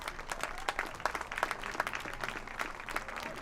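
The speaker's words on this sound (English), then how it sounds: "let's give a round of applause for your seniors and their shirt off the back recipients." High school baseball crowd at a St. Amant High versus Live Oak game applauding the senior players: a continuous patter of clapping hands, distant and fairly faint, with a few sharper claps standing out.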